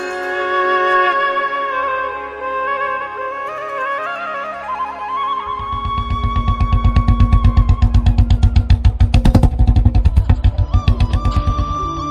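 A motorcycle engine starts thumping in close, fast, even pulses as music fades out, then keeps running loudly and steadily to the end.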